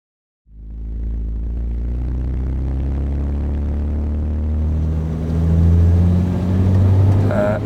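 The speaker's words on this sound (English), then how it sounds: "I'm just letting this warm through before I actually start driving it to see what is or is not happening with the engine." A Ferrari 412 engine idles steadily as it warms up, a loud continuous low rumble that starts abruptly and holds even, rising slightly in pitch toward the end with a brief higher note at the finish.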